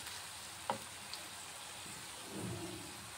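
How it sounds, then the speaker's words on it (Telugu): Masala spices frying in a pan for chana chaat, a soft, steady crackling sizzle close by with a couple of light utensil knocks, no talking. "ఇప్పుడు మసాలా కూడా అంతా ఫ్రై అయిపోయింది కదా"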